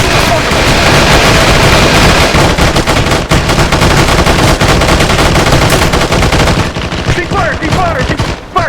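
Heavy sustained gunfire in a military shooter game, dense overlapping automatic bursts and shots, loud and close, easing toward the end.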